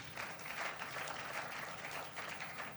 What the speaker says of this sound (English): If you really want to clap like you mean it.